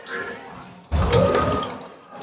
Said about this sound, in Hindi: इधर पानी चालू हो चुका है, ये साफ पानी है